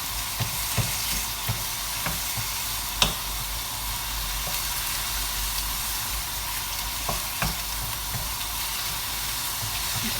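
Rice with prawns fries in a pan under a steady loud sizzle and hiss, while a utensil stirs and scrapes with occasional sharp clicks against the pan.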